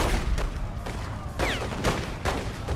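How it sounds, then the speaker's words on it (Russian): Gunfire in The Godfather II video game, several sharp shots bursting out at intervals over a steady background din, fairly close and loud, with no talking. "Куда в меня стреляет, я не пойму."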